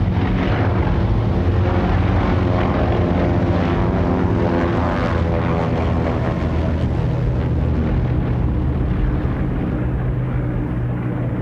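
The Martin Mars, a giant propeller-driven flying boat, drones loudly and continuously through the air, a dense roaring engine and propeller hum that holds steady throughout with no talk.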